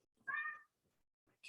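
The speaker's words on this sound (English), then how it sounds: "Cat." A house cat gives one clear, fairly close meow, followed by faint rustling and the start of another short call in an otherwise quiet room.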